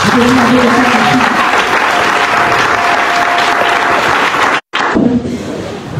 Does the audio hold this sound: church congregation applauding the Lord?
yes